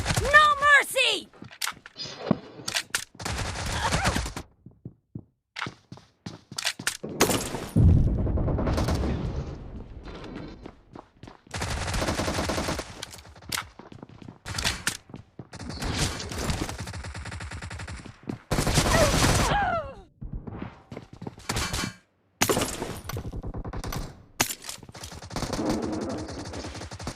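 Video game gunfire in bursts of rapid shots and single cracks, loud and close, separated by short silences, with game voice lines between volleys.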